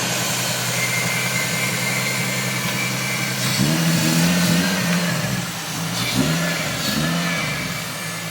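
A Toyota Supra's engine idles and then revs up as the car pulls out of a shop under its own power, a close, steady mid-pitched rumble with a swell of acceleration around the middle.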